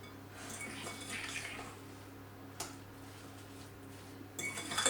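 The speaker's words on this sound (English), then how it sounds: "Give that a bit of a mix." Vegan banana cake batter is mixed in a bowl with a utensil, making soft scrapes and faint clinks. A sharper tap comes midway and a louder clatter near the end, with no voices.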